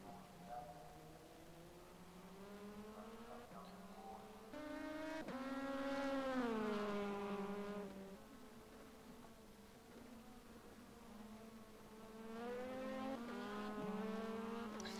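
Sports cars racing at Portimao in rFactor 2 during a three-hour World Sports Car Challenge, engines droning steadily with rising and falling pitch as they shift gears, one car loud and near, a commentator talking over them.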